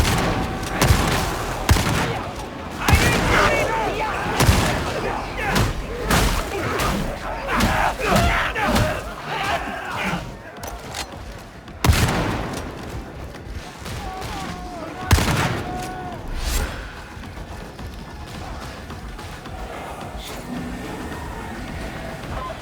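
Rapid gunfire and blasts fill a hectic firefight in the video game Warhammer 40K Darktide, loud and dense, with shouted battle cries and crowd-like clamor throughout.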